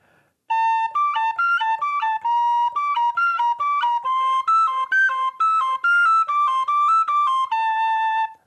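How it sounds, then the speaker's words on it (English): A C tin whistle plays the tune Tam Lin in E Dorian, alone and close, with a clear, bright run of quick stepwise notes that flows steadily without pause. "On our C whistle, we're going to be in E Dorian."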